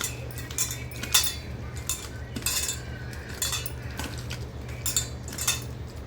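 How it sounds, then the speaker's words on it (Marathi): Prawns being mixed by hand with chilli masala in a dish for a spicy prawn curry, giving repeated light clinks and scrapes of a spoon against the dish over a steady low hum, with no voices. "आता हे सगळं आपण मिक्स करून घेऊया व्यवस्थित कोळंबीला लावून घेऊया"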